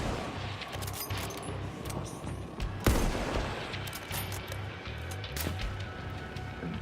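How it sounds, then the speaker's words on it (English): Sniper rifle shots in the video game Battlefield 1, with one sharp loud crack standing out among scattered distant gunfire and a continuous low battlefield rumble. "This was one of my longest shots in the game."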